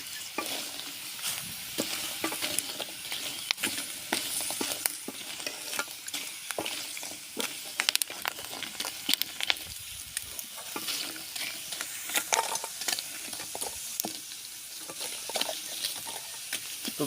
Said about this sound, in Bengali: এভাবে যদি চিপস খেতে চান, এভাবে গরম তেলে ভাজবেন